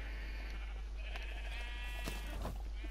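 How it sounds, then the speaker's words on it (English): Sheep on a Minecraft sheep farm bleat faintly a few times in the video game, short wavering calls over a steady low hum, with no talking. "I have a sheep farm."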